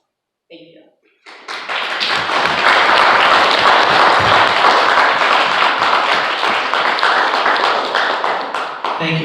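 An audience bursts into sustained applause after a talk encouraging young ladies, with dense clapping that starts abruptly, holds steady at full strength for several seconds, and carries on to the end.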